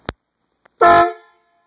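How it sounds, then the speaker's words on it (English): An on-board air horn on a custom vehicle gives one loud, close, sustained blast of about half a second. A couple of faint clicks come before it, and the blast fades out at the end. "Go ahead and blow it there, honey."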